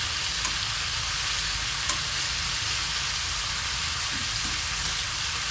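Pork adobo with soy sauce sizzles loudly in a pan, a dense continuous frying hiss with faint stirring clatter underneath, close up and unbroken.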